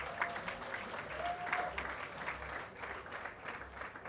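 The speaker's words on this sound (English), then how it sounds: "Can we give a round of applause?" Applause at a Rotary Club of Bukoto installation ceremony, a steady patter of many hands clapping, fairly distant and soft, with a faint voice underneath.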